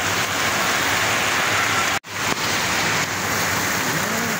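Heavy rain hammers down in a loud constant rush, broken by one sharp momentary dropout near the middle before the steady roar resumes.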